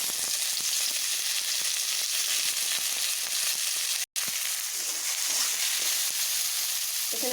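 Chopped onions sizzle loudly in hot oil already seasoned with bay leaf and five-spice seeds, part of a home-cooked biryani; a dense, steady frying hiss runs throughout, broken only by a momentary gap.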